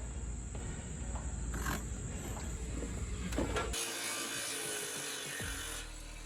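Handsaw cutting a 2x4 board to length, with rough, rasping wooden strokes for several seconds followed by a lower mechanical rumble toward the end.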